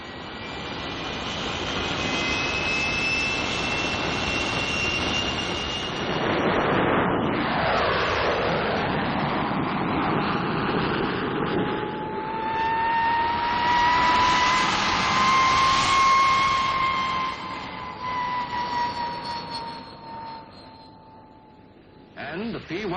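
A Gloster Meteor jet fighter flies past with a loud jet roar and whine, swelling and fading as the aircraft passes, with a falling Doppler tone and a second surge later; a narrator may be speaking over it.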